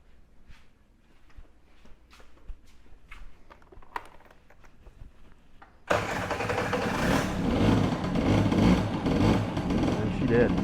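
A 1985 Honda Spree NQ50 two-stroke scooter sits quiet with faint clicks and fiddling, then abruptly fires up and settles into a loud, buzzy, steady idle close by.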